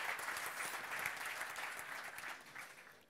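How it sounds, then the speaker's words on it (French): Audience clapping at the close of a tech talk on Kubernetes and K3S, a brief steady patter of applause from a modest crowd that thins out over a few seconds. "J'applaudis."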